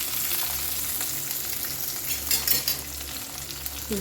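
Finely chopped green chillies and ginger fry in hot oil for wheat rava upma, a continuous close sizzle with occasional stirring scrapes, no talking.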